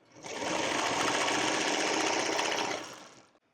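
A sewing machine runs a steady, continuous stitch joining two quilt block fabric pieces right sides together, a loud, even mechanical whir lasting about three seconds before stopping.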